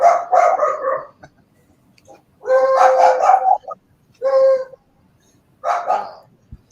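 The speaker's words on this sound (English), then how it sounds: "The dogs are gonna go crazy." Dogs bark and howl indoors at an arriving delivery, in four loud bursts separated by short pauses, some drawn-out and howl-like.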